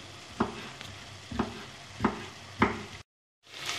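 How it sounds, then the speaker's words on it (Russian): Diced chicken fillet fries in a pan with a steady broadband sizzle, broken by four sharp stirring scrapes at roughly even intervals, then a brief dead gap before the frying sound returns; no one speaks. "Как только из филе ушла вся лишняя жидкость, оно обжарилось у меня минуты 4"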